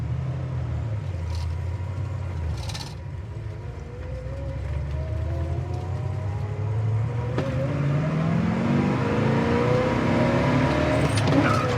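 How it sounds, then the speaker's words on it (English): A 1967 Chevelle L79 V8 idles at 500-600 RPM, a steady, low rumble up close, with a faint rising whine and a few light knocks in the background. "it is just sitting here at 500-600 RPM, and it's idling beautifully"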